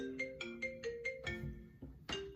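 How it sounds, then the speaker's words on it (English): A phone ringtone plays a quick, faint melodic sequence of bright repeated tones, with no voices over it. "I'm getting a phone call."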